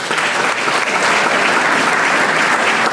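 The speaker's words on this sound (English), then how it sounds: "And give them a round of applause." A dense, sustained round of applause from an audience at a small business recognition awards ceremony, loud and even throughout with no talking over it.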